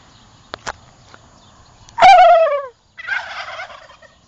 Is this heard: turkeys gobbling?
yes